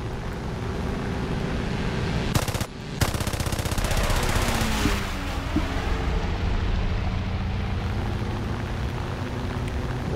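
Rapid bursts of aircraft machine-gun fire ring out in War Thunder over a steady engine and wind drone, with a sharp cluster of shots partway through before the din settles back.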